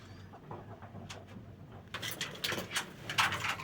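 Pet pigeons, black-tailed birds with white eyes, coo softly in a loft, low murmuring calls under rustling and shuffling that grows busier toward the end.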